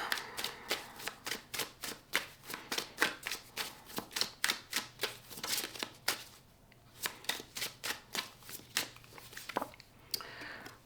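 Oracle cards being shuffled by hand, a steady run of quick crisp riffling bursts close up, with a brief pause partway through before the shuffling resumes.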